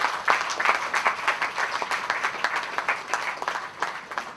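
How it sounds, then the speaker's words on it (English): Applause from the crowd at the opening of a road in Guyana, a lively run of clapping with uneven bursts that holds for several seconds at moderate volume, no voices over it. "the team at CHPA deserves a round of applause for this"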